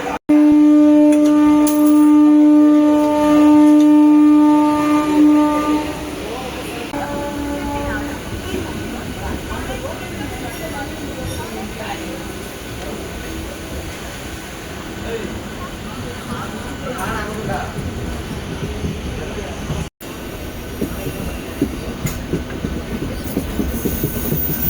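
A MEMU electric train departing Tiruchirappalli Junction on the Trichy–Villupuram route sounds a steady horn, then rolls off with a continuous rumble and rhythmic wheel clatter, with squeals and station noise around it.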